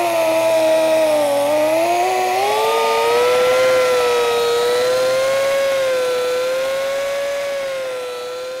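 Rotary buffer polishing automotive clear coat during paint touch-up, a loud continuous motor whine that rises and dips slightly in pitch as the pad works the compound, steady and close throughout before easing off near the end.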